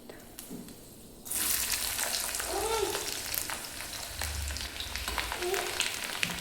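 Finely chopped garlic dropped into hot oil for a spinach dal, a sudden burst of sizzling that settles into a steady frying hiss with faint stirring scrapes, close and moderately quiet.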